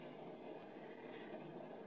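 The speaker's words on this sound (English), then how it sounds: "I wish this train would move a little faster." Steady, muffled rumble of a moving train as a radio drama sound effect, a constant, even wash of rolling noise, faint and continuous with no voices.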